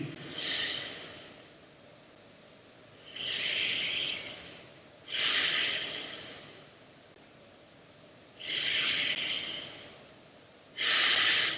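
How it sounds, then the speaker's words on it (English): Close, loud, deep breathing during a seated yoga spinal twist (Parivritta Janu Sirsasana), with six slow, even breath cycles alternating between airy inhales and exhales in a quiet room. "Deep breathing."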